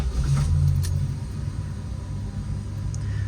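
A 1976 Dodge Dart with a Slant Six engine rumbles steadily after starting, with a heavier low surge at the beginning that settles into an even idle, close and moderately loud, with no voices.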